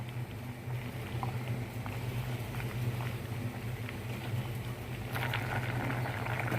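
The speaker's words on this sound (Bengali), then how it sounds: "আমার সবজিটা সিদ্ধ হয়ে গেছে, এখন আমি বরবটিগুলো দিয়ে দিব।" Vegetables and yardlong green beans boil in a pot of water, giving a steady bubbling hiss with a low hum beneath it. The sound stays continuous and even throughout, with no talking.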